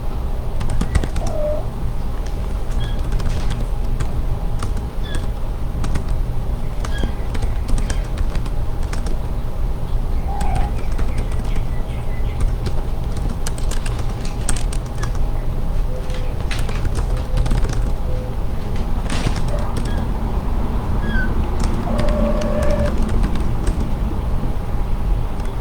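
Someone types steadily on a computer keyboard, a long run of close, crisp key clicks in irregular bursts over faint background noise.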